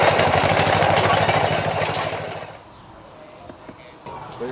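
A 1947 American-made Farmer Cut vintage tractor engine runs loud and steady with a rhythmic chugging, then drops off sharply, leaving quiet background with faint knocks.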